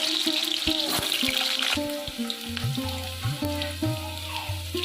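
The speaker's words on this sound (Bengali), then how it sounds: "প্রথমে আমি আলুগুলো ভেজে নেব আলুগুলো আমি দিয়ে দিলাম তেলের উপরে" Potatoes for chicken kasa frying in hot oil in a pan, a loud, continuous sizzle with intermittent clinks and knocks of a utensil, close and busy throughout.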